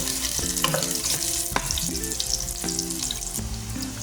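Garlic sautéing in hot oil in a wok, a loud continuous close sizzle with crackling spatters and faint metallic clinks, no voices.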